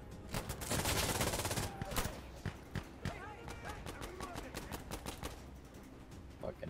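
Rapid gunfire in Insurgency Sandstorm fires in a dense burst, followed by scattered single shots and short volleys at varying distances, with talk mixed in.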